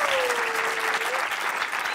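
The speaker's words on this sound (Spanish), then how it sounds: "Aplauso para Eddie White" Studio audience applause on the TV variety show Sábado Gigante: a thick, sustained wash of clapping from a large crowd, loud and even, with a faint sustained tone gliding underneath.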